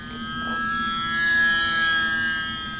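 Electric motor of an E-Flite UMX Pitts S-1S radio-controlled plane fitted with a bigger, stronger motor, a steady high whine with harmonics that swells and fades slightly as the plane passes.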